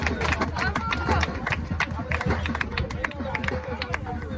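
Applause and crowd noise rise at a community citizen forum gathering, a dense wash of clapping mixed with murmuring voices and scattered low thumps, steady and fairly loud throughout.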